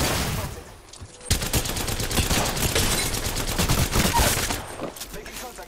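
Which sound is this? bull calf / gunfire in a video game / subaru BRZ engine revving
gunfire in a video game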